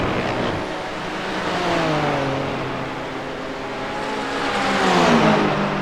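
A McLaren GT4 race car at Spa accelerating, its engine note climbing steadily through the gears, a loud, close mechanical whine rising and shifting, with no voices.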